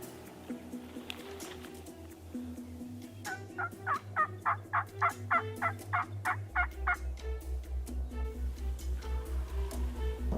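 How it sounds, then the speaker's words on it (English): A run of about a dozen loud wild turkey gobbles in an open field during a Kansas spring hunt, evenly spaced and close, rising over a steady low engine-like drone with no talking. "I heard some gobbles go off into the corner of the field where the other birds were leaving to."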